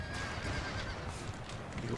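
Horses neigh and whinny amid a busy battlefield in Empire: Total War, their calls mixed with clip-clop hoofbeats over steady broadband battle noise, moderately loud throughout.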